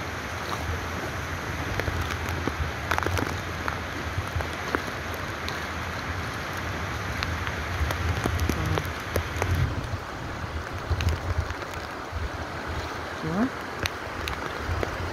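Broad, steady roaring noise of strong typhoon wind buffeting the microphone among banana plants, with rustling and occasional gusty surges throughout.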